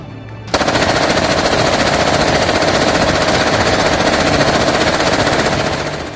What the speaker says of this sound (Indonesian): SS-2 atau senapan serbu 2 adalah senapan serbu buatan PT Pindad